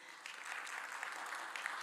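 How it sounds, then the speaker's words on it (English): A conference audience gives a dense, steady round of applause, many hands clapping together at an even level throughout. "Can we begin by giving you all a huge round of applause?"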